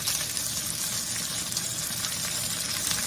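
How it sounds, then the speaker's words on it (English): Beef pieces for stroganoff sear in a hot pan with a loud, close, continuous sizzle and crackle, no voices over it. "And we're just searing them."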